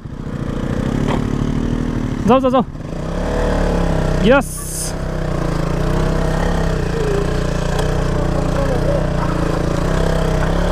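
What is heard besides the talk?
motorcycle engine on a muddy road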